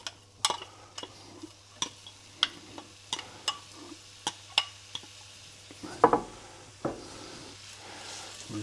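Onions tumbling into olive oil in a hot pan for caramelising, giving a run of sharp clatters and scrapes over a low steady sizzle, with a louder burst near the end.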